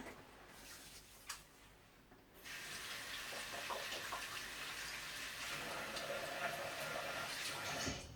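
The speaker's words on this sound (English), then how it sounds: "let me just wash my hands." A bathroom tap runs steadily for hand washing, a close, continuous stream of splashing water that starts after a short quieter moment and carries on to the end.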